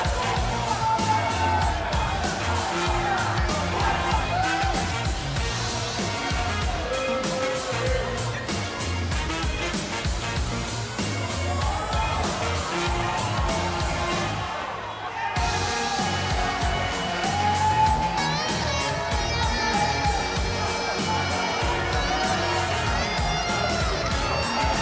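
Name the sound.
crowd cheering at wrestler entrance, WWE 2K19 video game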